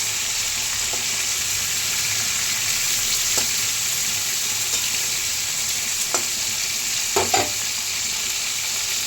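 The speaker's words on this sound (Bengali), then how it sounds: "এখানে চিংড়ি মাছ ভাজা হচ্ছে, হালকা করে ভাজবো" Shrimp fry lightly in hot oil with a steady, even sizzle and a few soft clicks and stirring taps of the utensil. There is no talking.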